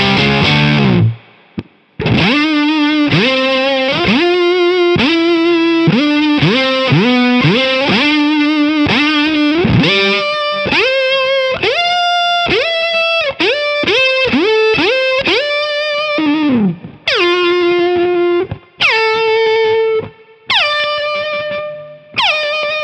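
Electric guitar with high gain through a Neural DSP Archetype Tom Morello plugin, playing a loud string of distorted single notes and pitch-bending, whammy-style slides in quick phrases with brief pauses between them, with no talking over it.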